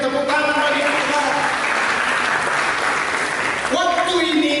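Congregation clapping during a church sermon, a dense burst of applause from many people lasting a few seconds, bracketed by sustained musical tones before and after.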